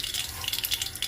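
Mustard seeds popping and crackling in hot oil while sambharo is cooked, a dense, continuous sizzle of sharp crackles heard up close with no voices.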